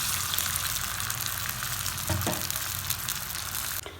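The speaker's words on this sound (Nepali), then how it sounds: "अनि मैले अलिकति चाहिँ पानी हाल्दैछु यसमा।" Water is splashed into a hot pan of spiced chicken for Nepali choila, raising a continuous hissing sizzle with a brief gushing burst midway. The sound stays close and loud, then abruptly thins near the end.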